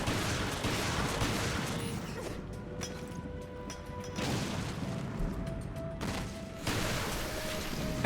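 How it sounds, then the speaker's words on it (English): Bursts of gunfire from the Resident Evil Revelations video game, Raid mode in Terragrigia, with repeated rapid shots and crashing impacts in clusters across a loud, busy mix. "Shoot them immediately when the elevator opens"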